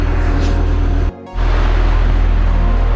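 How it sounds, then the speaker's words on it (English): Heavy rain pours down on a sailboat in a passing squall, a loud, dense, steady wash of noise that briefly drops out and then returns at full strength. "Wow, it's pouring now."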